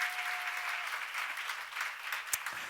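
A church congregation applauds in a steady, even wash of clapping, moderately distant, with a single sharper knock near the end.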